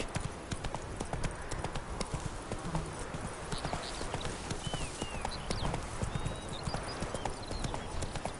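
Roach, the horse in The Witcher 3, trots with rapid, rhythmic hoof clip-clops, close and clear, set against a busy outdoor game ambience with faint bird calls.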